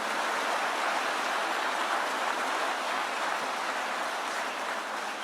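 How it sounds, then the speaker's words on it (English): A large audience at a Michigan manufacturing plant applauds the Secretary of Labor, a steady, dense wash of clapping that holds at an even level throughout, with no voices heard over it. "Let's get a round of applause for the great Secretary of Labor."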